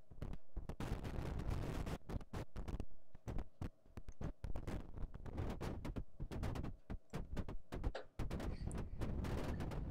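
A noise generator synth set to a very short decay, firing rapid loud bursts of noise that cut off abruptly, in an irregular stuttering pattern with brief gaps between hits.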